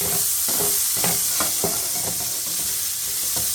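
Vegetables seasoned with salt and pepper sizzle steadily in a pan as they cook down, with a constant bright frying hiss and a few soft stirring scrapes, close up and with no talking.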